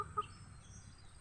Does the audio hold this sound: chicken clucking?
yes